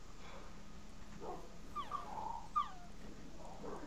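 A video-game dog whimpers in a few short, thin whines and yips, soft and somewhat distant over a quiet background hum.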